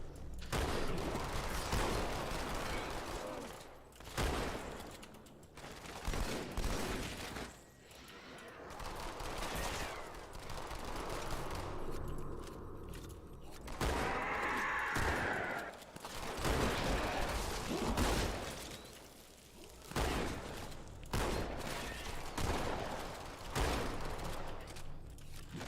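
Dual-wielded Magnum pistols fire in Halo 2, rapid bursts of shots clustered with brief pauses, loud and mixed with game effects and overlapping talk.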